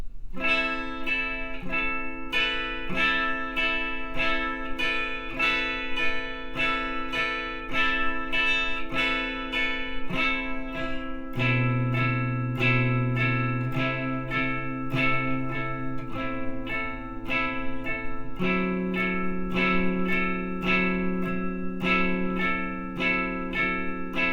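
Distorted electric guitar plays the riff of a song, with steady picked notes and shifting low chords, loud and continuous throughout.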